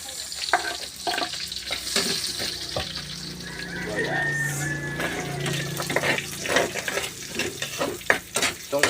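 Garlic and onion sauté in a frying pan that was used earlier for frying, with a steady sizzle, scraping stirs and clatters of a utensil against the pan at close range, with no talking.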